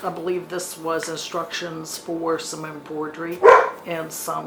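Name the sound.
dog barking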